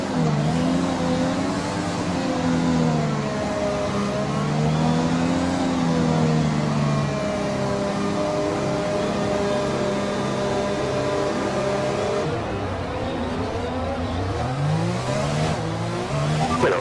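Formula One race cars in the F1 2020 video game rev at trackside before a race start, a loud continuous multi-engine whine with rising and falling pitch sweeps throughout, no talk.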